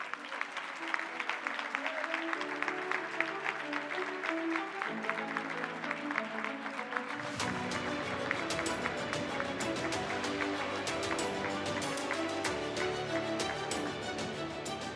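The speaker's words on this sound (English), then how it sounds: "Everyone, please give him a round of applause" Steady applause fills the room at a mayor's business luncheon as an award is accepted, accompanied by a music track with a shift in its instrumentation partway through.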